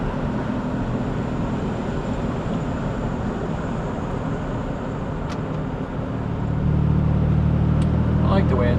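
A 1967 Chevrolet Corvair Monza cruises in fourth gear, its engine a steady low drone mixed with road and wind noise that swells louder and deeper toward the end.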